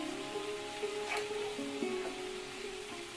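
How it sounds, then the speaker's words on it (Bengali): Potatoes, winter red potatoes, frying in oil in a pan for aloo dum, giving a steady low sizzle with light stirring scrapes, close and continuous, with no talking. "এখন আলুগুলোকে ভালো করে ভেজে নেব।"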